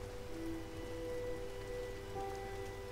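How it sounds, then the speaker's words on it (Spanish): Rain falling in the Silent Hill 2 Remake video game, a steady, soft patter and hiss on surfaces, fairly faint and continuous with a low hum beneath. "Encima se largó a llover, qué lindo."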